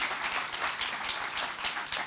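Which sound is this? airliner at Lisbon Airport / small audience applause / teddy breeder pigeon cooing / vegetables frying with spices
small audience applause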